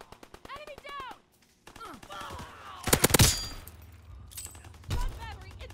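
Rapid bursts of Twisted II SMG fire in a Call of Duty WW2 Hardpoint match, loud and sharp near the middle and again toward the end, with in-game voice announcements between volleys.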